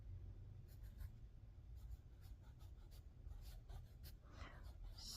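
A pencil scratches across paper during a Latin class, giving a quiet run of soft, irregular strokes over a low, steady room hum.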